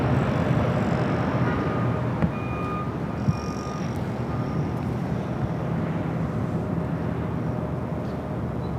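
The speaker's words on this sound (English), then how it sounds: "So EVA Air Cargo, the 777 freighter, having a north side arrival, will be following this Alaska." A jet aircraft rumbles at LAX as an EVA Air Cargo 777 freighter arrives, a broad steady roar with faint intermittent beeping tones and a couple of brief clicks on top.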